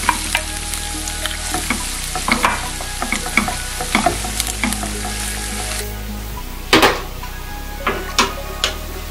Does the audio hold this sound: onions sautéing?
yes